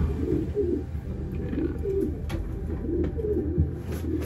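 Soft, low cooing from a pigeon repeats over a steady murmur of other birds nearby, with no talking.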